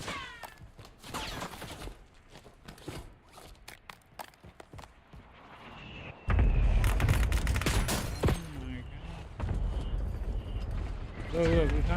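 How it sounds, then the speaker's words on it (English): Gunfire in the video game Call of Duty Warzone: sparse, sharp shots early, then loud bursts of firing with booms and mechanical clatter, while players talk over it. "Oh, they're shooting at us."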